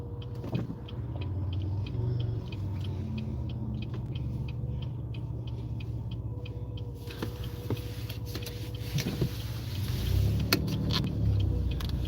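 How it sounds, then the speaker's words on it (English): Heard from inside a car at an intersection, a steady low engine and road rumble fills the cabin as other traffic moves past, with a louder swell toward the end as a passing car shoots through the gap. "That car shot that gap."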